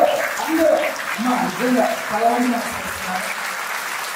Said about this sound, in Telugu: ఒకసారి మనం అందరం లేచి నిలబడి చప్పట్లు కొట్టడం తప్పలేదు.